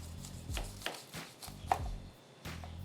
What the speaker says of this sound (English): Let's cut this thing open.